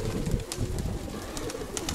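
Pigeons at a pigeon fancier's loft give soft, low cooing calls, fairly close and steady over a murmur of background noise.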